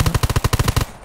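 A rapid, loud automatic burst in the zombie survival shooter Undawn, about a dozen evenly spaced close shots in under a second before cutting off.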